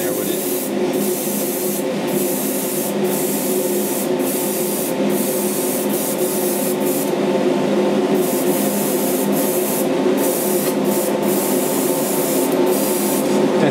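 A spray can mists paint onto a repainted Captain Marvel Modern Bowen statue, a steady close hiss held almost continuously with brief gaps as the nozzle is released and pressed again.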